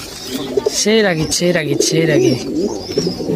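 Rajshahi Giribaz pigeons in a pigeon house, loud close cooing in repeated rolling phrases with wavering pitch, a couple of birds calling in overlapping bursts.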